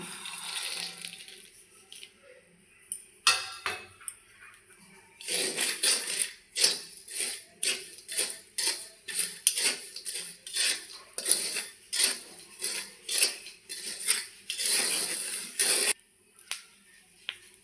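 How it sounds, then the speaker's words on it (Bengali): Peanuts dry-roasting without oil in a hot iron kadai give a run of sharp, rapid clicks and rattles, first a few isolated ticks and then a dense rhythmic burst of near, crisp pops and scrapes that stops abruptly. "বাদামগুলো কিন্তু কুটকুট করে ফুটে উঠছে"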